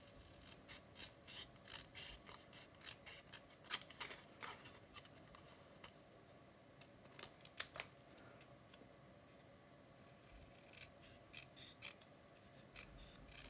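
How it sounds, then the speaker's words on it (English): Scissors making a tight fussy cut around a small paper card sentiment, a steady run of quiet crisp snips with short pauses, close and alone. "I'm just going to kind of do a little bit of a tight cut around that sentiment."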